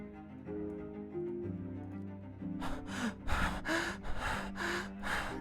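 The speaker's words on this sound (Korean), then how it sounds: "가빠져오는 숨소리 너머에서 나를 부르는 목소리가 들려와 겨우 정신을 차렸다." Quick, heavy panting breaths from a visual novel game, starting softly under a low musical tone and then turning into loud, rhythmic gasps near and alone.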